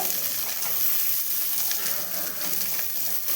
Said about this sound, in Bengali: এদিকে জলটা ফুটে গেছে এবারে চালগুলো দিয়ে দেব এবারে বিনসগুলো দিয়ে দেব